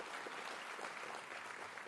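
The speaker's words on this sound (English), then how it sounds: "So give him a very big round of applause." Steady, faint applause from a large audience at a university convocation ceremony, a distant even wash of many hands clapping without pause.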